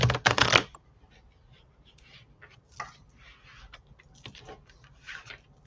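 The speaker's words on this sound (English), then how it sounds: "So let me get shuffled up here for Tammy." Tarot cards are shuffled in a sharp, close riffle burst at the start, followed by quieter intermittent card handling and taps across the rest.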